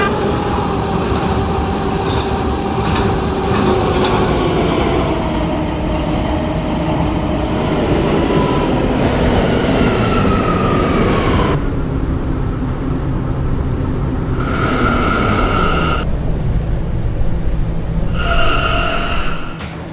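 A subway K train in a video game runs along the track with a continuous rolling rumble and rhythmic clickety-clack, and wheels squeal and whine in bursts as it moves.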